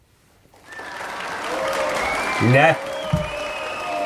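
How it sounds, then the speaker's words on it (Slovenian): Recorded applause plays in a radio comedy studio, a steady wash of clapping that lasts several seconds while people talk over it. "Aplavz je tudi posnet"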